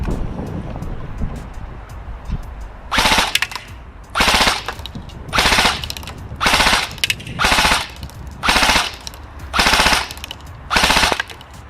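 An Ares Amoeba M4 CCR airsoft replica fires in eight rapid bursts outdoors in the wind, each burst a loud, dense rattling chatter about half a second long, separated by short pauses of wind noise.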